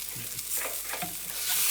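Shrimp and chicken fry in a pan as a utensil stirs them, soft scraping strokes over a low sizzle that grows a little louder toward the end, close by with no talk.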